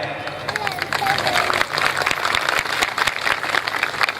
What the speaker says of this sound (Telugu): చప్పట్లు కొట్టాక